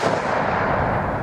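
Single loud booming report from a Savage Axis .308 rifle fired outdoors, a sharp blast followed by a rolling echo that fills the short moment, close and alone without speech.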